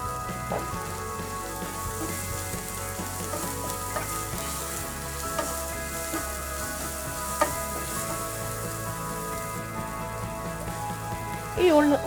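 Chopped onion sizzles in hot oil in a pan, a continuous crackling fry with small pops and a brief clatter of stirring near the end.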